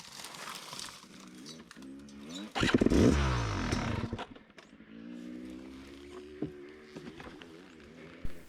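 Yamaha YZ250X two-stroke dirt bike fitted with an electric starter cranks and catches near the mic, then revs hard in a loud burst before settling into a steady idle among bushes.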